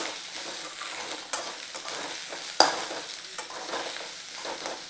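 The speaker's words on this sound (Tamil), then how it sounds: "இது கூடயே பூண்டு, கொஞ்சம் இஞ்சி, இதெல்லாம் கொஞ்சம் வதங்கட்டும்." Garlic and a little ginger sautéing in a pan for Chettinad chicken masala, a steady close sizzle with repeated spatula stirs and occasional sharp clicks against the metal, and no talking.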